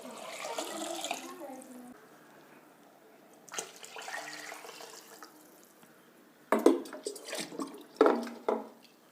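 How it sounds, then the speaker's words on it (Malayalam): Water is poured from a vessel into a pot of rice, three separate pours, splashing in short bursts that grow louder and fuller toward the end, with quiet gaps between them. "മൂന്ന് മുന്ത വെള്ളം ഒഴിച്ചു. പാത്രം നിറഞ്ഞു."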